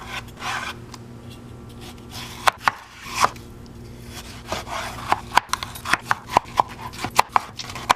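Knife chopping tomatoes on a cutting board: soft cutting strokes at first, then a quickening run of sharp, close knocks against the board toward the end, with no talking.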